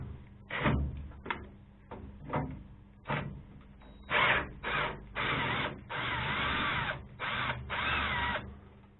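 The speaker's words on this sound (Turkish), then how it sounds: "Önde şu altta iki tane vida var. Onları çıkartacağız." Two screws are backed out of the front lower casing of a Bosch combi boiler with a power driver, giving a run of short drill whirs followed by longer sustained bursts, close and fairly loud with no talking.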